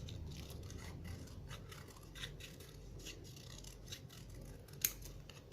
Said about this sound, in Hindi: रोजेस के लिए देखिए मैंने डार्क पिंक लिया है, इसमें से हम इस तरह से देखिए सर्कल शेप काट लेंगे